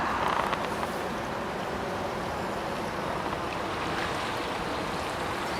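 Wading through localised floodwater in wellington boots along a wall's edge, with a steady, close rushing slosh of moving water, constant and fairly loud throughout.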